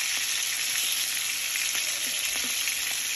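Pork pieces frying in a pan, a steady, dense sizzle and crackle throughout, close and loud, with faint stirring.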